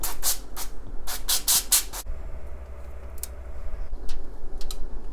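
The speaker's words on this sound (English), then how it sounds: "Now, non-stick spray." Several short hissing bursts from a can of non-stick cooking spray in quick succession, then a pause and a couple more brief sprays, close by.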